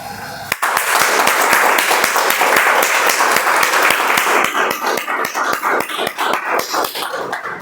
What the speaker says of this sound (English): So we'll start today's meeting also with a clap.